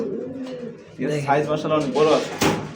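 A pigeon at a market stall gives low, rolling coos that begin softly and swell into a louder, throbbing run, close by, with voices mingling in the background.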